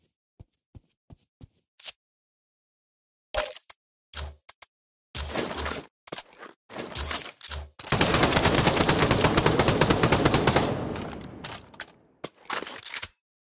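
Gunfire in the VR shooter Pavlov on the Shack beta map, starting with sparse single shots, then short bursts and a long sustained stretch of rapid automatic fire, loud and close, ending with a few more scattered shots.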